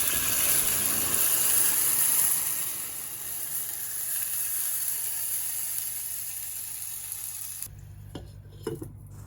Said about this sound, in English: So trying to fry it now.